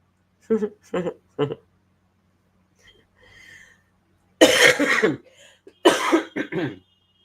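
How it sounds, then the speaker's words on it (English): Three short, sharp coughs come first. After a pause, two longer, harsher bouts of coughing follow, all close and loud. "I'm still doing a little bit of coughing"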